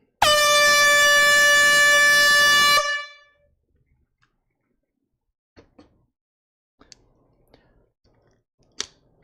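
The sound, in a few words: air horn blast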